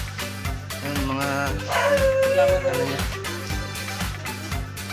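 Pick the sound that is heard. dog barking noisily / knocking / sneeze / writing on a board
dog barking noisily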